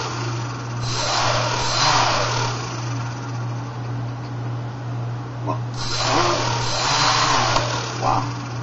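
HOVERTHINGS VC-450 quadcopter motors whir up twice in surges under throttle, close by, over a constant low electrical hum.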